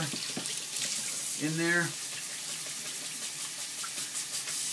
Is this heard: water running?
yes